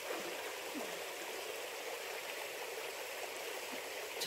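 A river flows through a valley at Lavail in the Pyrenees, giving a steady, continuous broadband rush of water, loud and close, with no talk over it.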